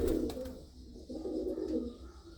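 A female pigeon coos softly in low, rolling, repeated phrases, close by but at a gentle volume, with no voices over it.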